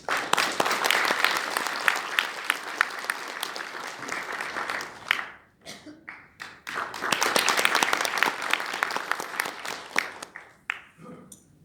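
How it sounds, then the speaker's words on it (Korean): An audience at a citizens' assembly event applauds a guest speaker in two strong bursts of clapping, separated by a short lull with a few scattered claps. "뜨거운 박수 부탁드립니다"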